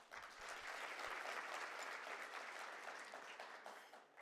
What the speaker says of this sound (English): And I think we need a round of applause for that.